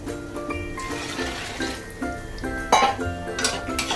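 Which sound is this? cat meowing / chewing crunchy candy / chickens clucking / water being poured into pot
water being poured into pot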